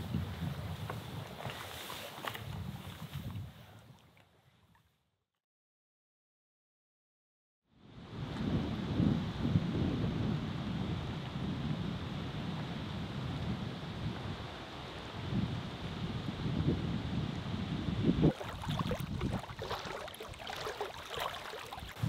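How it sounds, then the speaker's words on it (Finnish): A thunderstorm builds over a lake on a canoe trip in a Finnish national park, with steady rain and wind noise, low rumbling and a sharp rustle near the end, loud and close. There is a brief silent gap early on. "tää on se hetki, kun se myrsky on luvattu alkavaksi ja vesisärkki pikkuhiljaa tässä pikkasen ripottelee"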